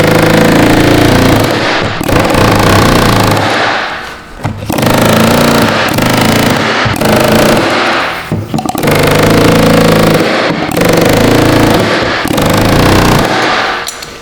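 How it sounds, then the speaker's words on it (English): An air hammer pounds hard against a Chevy truck's EVAP tank in long, loud rattling bursts of several seconds each. Brief pauses separate the bursts, and there is no talking. "I have no way to take this off without being violent with it, aka the air hammer"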